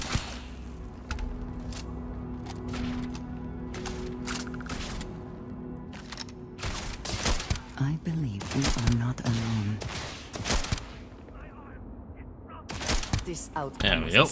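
Gunfire from the Starfield video game, with bursts of rapid shots and single cracks coming in clusters, loud and close, alongside a voice speaking between and over the shots.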